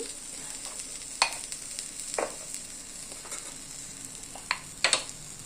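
Kuppameni leaves being sautéed in a pan for thuvaiyal, with a steady low sizzle and a few sharp stirring scrapes scattered through, no talk.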